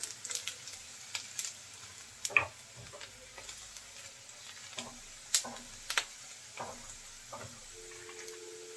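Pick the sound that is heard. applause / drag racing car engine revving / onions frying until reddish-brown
onions frying until reddish-brown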